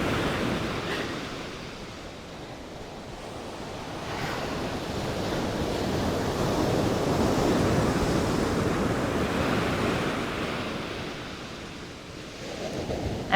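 Ocean surf rolls in continuously outdoors, a broad low roar of waves that swells and recedes slowly, with wind rushing across the microphone and no voices.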